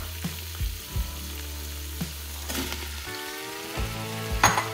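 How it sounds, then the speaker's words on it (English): Finely cut bacon and white onion sauté in a pressure cooker pot, a steady close sizzle with occasional stirring knocks and scrapes against the pot, no voices. "we're just gonna saute those for about 5 minutes in the same"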